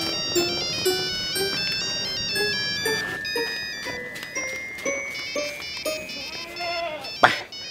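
A phone ringtone plays a bright repeating electronic melody of short tonal notes in a steady rhythm, fairly loud, ending with a sharp click near the close; no speech is heard over it.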